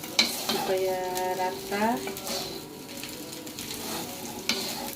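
Spicy dendeng beef sizzles in a pan with only a little oil as it is flipped and stirred, a steady close frying hiss broken by scraping turns, with a few quiet words spoken over it.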